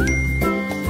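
A bright chime ringing once, a short tinkling ding with sustained ringing tones that fade within a second.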